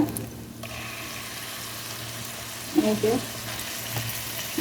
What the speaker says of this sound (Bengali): একটা রসুন কুচি আর দুইটা কাঁচামরিচ কুচি দিয়ে একসাথে একটু ভেজে নেব